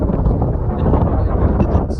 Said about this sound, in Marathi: दीपा नको यार वाऱ्यात उडून जाशील तू.